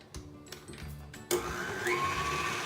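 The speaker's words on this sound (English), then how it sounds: "I lift it up and turn it on just to get as much of the frosting off of the whisk as possible." An electric mixer whisk lifted from cream cheese frosting and switched on, starting with a few light taps and then a sudden steady whirring motor hum that holds loud and close, rising slightly in pitch.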